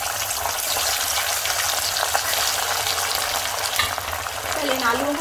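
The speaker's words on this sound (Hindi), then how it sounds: "पहले इन आलूओं को फ्राई कर लेते हैं" Potato and arbi pieces fry in hot oil in a kadhai, a dense, steady, close sizzle that holds evenly throughout, with a faint clink near the end.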